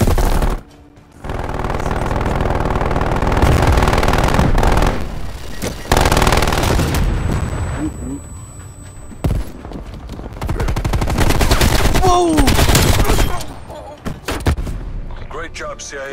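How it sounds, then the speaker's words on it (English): In Call of Duty Cold War, a hostile sentry turret fires, giving sustained bursts of loud, dense machine-gun fire mixed with other gunshots and booms, with voices speaking throughout. "Hostile sentry turret active."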